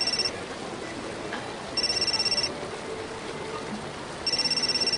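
A telephone rings in short electronic bursts, three rings spaced about two seconds apart, fairly close over a quiet indoor background.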